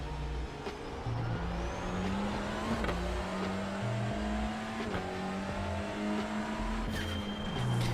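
A TCR race car engine in the iRacing video game at Brands Hatch roars steadily, shifting pitch as it revs up and down through gears, loud and continuous with no talking.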